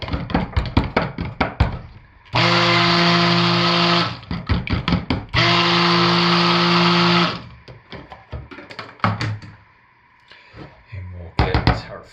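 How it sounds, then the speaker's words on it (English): A stick blender mixing white cold-process soap batter runs in two steady whirring bursts of a couple of seconds each, with clattering knocks and taps from handling the container before, between and after. "And then the stick blender will really brighten that white up."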